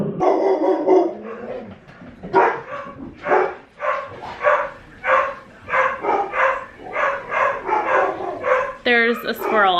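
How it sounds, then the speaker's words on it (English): A dog barks repeatedly at a squirrel on a home deck, a steady run of loud, close barks with brief yips, going on without pause through the whole stretch. "she won't stop barking until the squirrel is gone"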